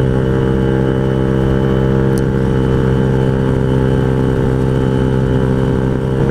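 A Honda Ruckus scooter's small engine drones steadily while riding, a constant close hum with even mechanical tone and no noticeable revving changes, nobody speaking.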